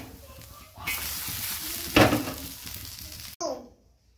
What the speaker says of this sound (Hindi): कुकर में आलू के पराठे बनाऊंगे।